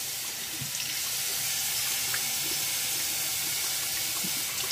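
Water rinsing foam off a Paw Patrol grooming toy, a steady close stream of running water hissing continuously throughout.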